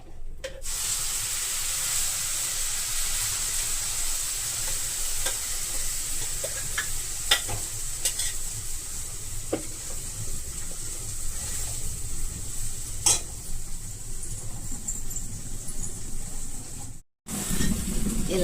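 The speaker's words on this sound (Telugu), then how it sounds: "ఇలాగా అంతా మనం మిక్సీ పట్టుకున్న చట్నీని ఇలాగా ఆయిల్లో వేయించుకోవాలన్నమాట" Ground coriander chutney sizzles steadily in hot oil in a pan, a continuous close frying hiss with occasional stirring clicks, dropping out briefly near the end.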